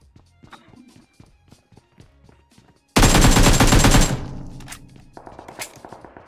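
Automatic gunfire in the PUBG Mobile video game: soft in-game footsteps tapping, then a sudden loud, sustained burst of rapid close shots lasting about a second, followed by a few scattered sharper reports.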